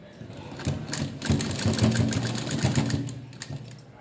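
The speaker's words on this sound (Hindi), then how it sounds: "इसे फोल्ड करके इस पे हमने सिलाई चलानी है 1 इंच की दूरी पे रख के" A sewing machine stitches a folded pajama hem about an inch from the edge, its needle running in a steady, rapid mechanical whir for a few seconds, close and fairly loud, starting and stopping with a speaking voice nearby.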